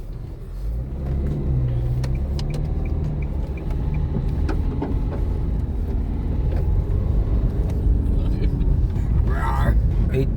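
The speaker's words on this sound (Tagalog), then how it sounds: "hindi kasya ang dalawang sasakyan" Cars in a convoy pass one another on a narrow road, too tight for two vehicles side by side, giving a steady engine rumble close by, with people talking over it.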